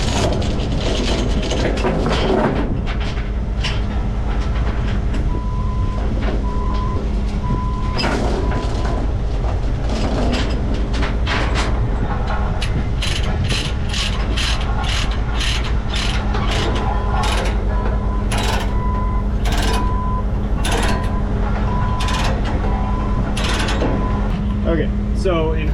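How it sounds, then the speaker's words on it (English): A ratchet tie-down strap being cranked tight on a boom reach delivery, with repeated clicking ratchet strokes and mechanical clatter over a steady engine hum, some faint voices in between. "this is going to be my tie down pulling action"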